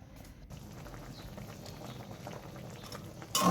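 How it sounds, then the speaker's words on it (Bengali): Bitter gourd curry bubbling at a steady boil in a pot, a soft continuous burble of liquid with a brief louder knock at the end. "তার কি একটা বলক এসে গেছে"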